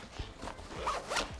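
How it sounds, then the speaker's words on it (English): A double compression zipper on a Tropicfeel Nest backpack's 5-liter packing cube is pulled in several quick, close, scratchy zipping strokes, each a short rasp of fabric and teeth. "this has the double zip compression"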